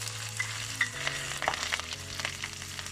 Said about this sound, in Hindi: ये जी अभी ऑयल जो है गर्म हो चुका है। ये हम इसमें डालते हैं लहसुन